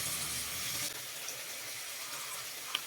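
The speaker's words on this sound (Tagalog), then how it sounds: "Lagyan natin ng tubig." Water pours into a pan of fish, tomatoes and ginger as a Filipino kinamatisang isda cooks, a soft steady splashing rush that fades into a quieter simmer.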